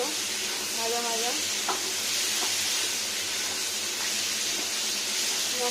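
Potatoes with spices frying in a covered pan give a steady, close sizzle and hiss that runs the whole way through, with a few faint clicks of stirring.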